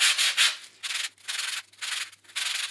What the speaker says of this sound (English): use a sanding block like this and just kind of twist everything almost like you're juicing an orange